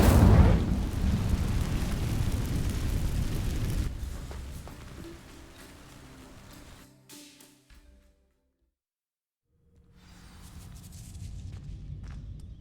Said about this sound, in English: These dry vines are one spark away from becoming kindling.